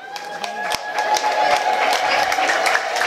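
A church congregation claps hands together in a steady, quick rhythm, a crowd of sharp claps layered over singing or a voice.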